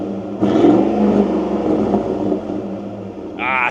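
A 2,306-horsepower V8 engine revs hard and bounces off a 3,000 RPM rev limiter, a loud sustained roar close by that holds steady for several seconds before a brief whine rises near the end.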